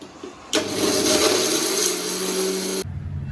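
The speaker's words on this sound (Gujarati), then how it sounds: "મિક્સરમાં તો આવી જ દળાય" An electric mixer grinder whirs at full speed while grinding red chili chutney, starting abruptly after a quiet moment, roaring steadily for a few seconds with a rising pitch, then cutting off sharply; no talk.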